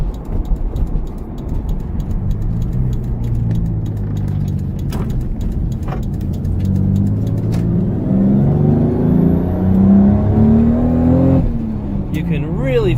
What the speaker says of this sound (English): You can really feel the boost kick in at the top of the RPM range there.